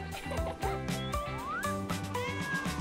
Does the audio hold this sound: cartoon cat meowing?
yes